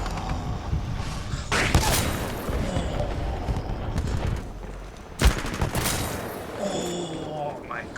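Kraber sniper rifle firing in a video game, two sharp heavy booming shots a few seconds apart with echoing tails, set among continuous gameplay noise and rumble.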